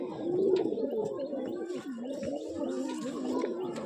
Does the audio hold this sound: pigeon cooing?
yes